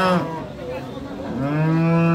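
Friesian dairy cows with calves at Raniganj cattle market in Ghoraghat, Dinajpur, one loud, close, drawn-out moo that dips and then rises into a long sustained call.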